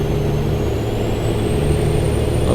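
A W900 truck engine in American Truck Simulator drones steadily from a cab-view camera, a continuous low rumble with a faint high whine rising slowly over a couple of seconds, with no talking.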